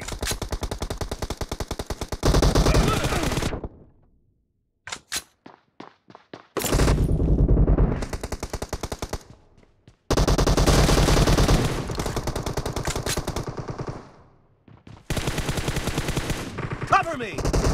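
Rapid automatic M416 rifle fire in Battlegrounds Mobile India, loud close bursts of several seconds broken by short pauses and single shots, with a reload gap in the middle.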